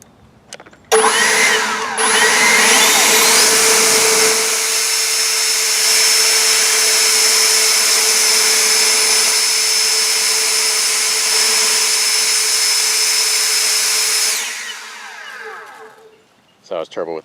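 An EGO Power+ LB6504 battery leaf blower with a flat nozzle runs on turbo over grass, a loud high-pitched electric whine starting abruptly, holding steady for about thirteen seconds, then spinning down.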